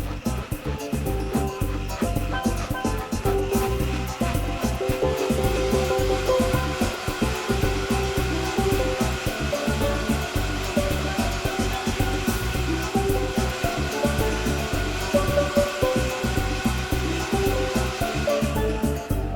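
A Vitamix Pro 750 Copper Edition blender whipping pineapple, its motor roaring loud and close as speed climbs from low to highest, with a rough churning rattle throughout.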